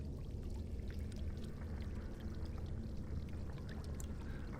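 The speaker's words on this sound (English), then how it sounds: "You dip the jug into cold water until it fills so completely." An earthen jug dipped into a cold pool in the game Dragon Age Origins gives a steady, continuous wash of pouring, gurgling water. It stays moderately loud and even throughout, with no one talking.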